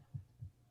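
Two soft, low thumps, evenly spaced like a heartbeat, from an electronic music composition in Ableton, faint and alone without talk.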